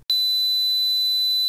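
A thin, high, steady ringing tone starts abruptly and holds unchanged over faint hiss and a low hum.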